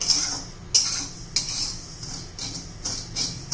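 Barnyard millet (varai) being dry-roasted in a pan, with a spoon scraping and clinking against the metal in irregular strokes over a low steady background, close and fairly quiet, no talking.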